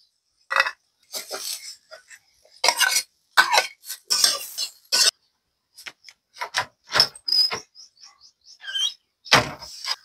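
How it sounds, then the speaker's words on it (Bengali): Fried potatoes tipped into a pan of bitter gourd and stirred with a utensil, giving close, irregular bursts of scraping and clinking separated by short pauses, with no talking. "ভাজি করে রাখা আলুগুলো দিয়ে দেব।"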